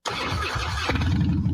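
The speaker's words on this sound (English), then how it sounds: "This is the sound of a popular American motorcycle." A popular American motorcycle engine fires up with a sharp squealing start, then settles into a loud, rough, close idle rumble with no voices.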